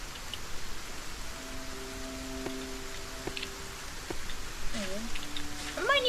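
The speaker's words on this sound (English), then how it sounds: "Raining at night too." Rain at night in the open-world survival game Solarpunk, a steady, soft hiss of rainfall with faint tonal game sounds and chirps over it.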